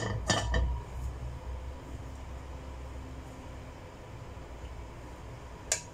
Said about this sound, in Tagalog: Igigisa na natin ang bawang at saka